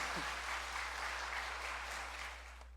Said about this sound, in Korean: 감사 박수 한번 다시 한번 드려봅시다